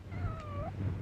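A cat, given as a wedding present, lets out a single drawn-out meow, clear and fairly close, over a low indoor rumble.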